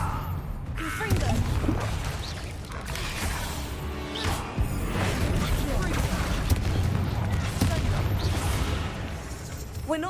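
Explosive Confringo blasting spells in the fantasy game Hogwarts Legacy, with crashing, shattering impacts and rumbling booms over a dense, loud battle mix with music and voices.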